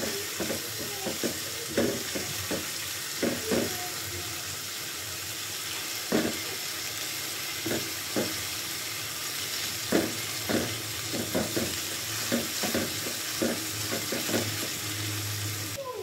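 Onion frying gently in oil for chicken khichuri, a steady soft sizzle broken by frequent scraping and tapping strokes of a spatula in the pan.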